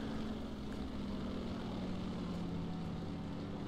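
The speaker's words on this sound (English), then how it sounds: "I hear some planes coming around." Steady drone of friendly propeller aircraft flying over in War Thunder, a continuous engine hum at even loudness throughout, with no talk.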